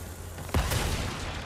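A single heavy boom of cannon fire in the video game Resident Evil 4 rings out suddenly over a steady low hum, followed by a brief crackling tail, loud and close.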